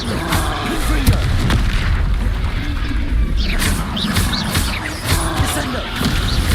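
Fiery Confringo spell blasts in the Hogwarts Legacy video game, a run of booming, crashing impacts amid continuous combat clatter and magical whooshes, loud and close, with no pause between hits.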